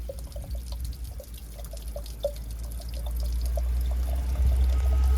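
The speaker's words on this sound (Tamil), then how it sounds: "அதில் கொஞ்சம் தண்ணி வடியுது. ஓகே, அதை பிடிச்சி குடிப்போம். கல்லுலேருந்து வடியுது." Water trickling and dripping down from a rock outdoors on a hot day, a steady soft pour with small scattered drips over low wind-like rumble, growing slightly louder toward the end.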